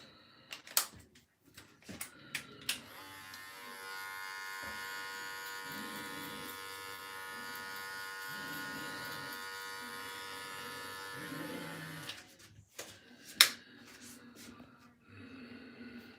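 Electric hair clippers fitted with a fade blade buzz steadily for about eight seconds during a self haircut, a close, even hum framed by scattered clicks and handling knocks before and after.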